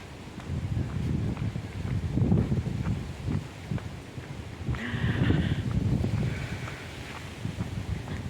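Wind rumbles and gusts against the microphone throughout in Lung Fu Shan Country Park, Hong Kong, with a faint higher tone briefly cutting through midway.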